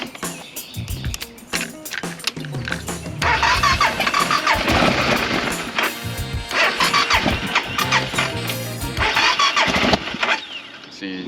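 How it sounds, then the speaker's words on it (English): A BMW F650GS dual-sport motorcycle that refuses to run right cranks and fires up, its single engine sputtering, revving unevenly and popping with backfires, loud and close throughout, with faint voices underneath. "See, the backfire."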